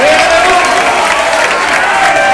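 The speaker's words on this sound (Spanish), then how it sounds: "Vamos a aplaudir por un minuto al Rey de Reyes" A church congregation claps steadily and loudly, a dense wash of applause filling the room throughout, with a sustained tone of music or voices running underneath.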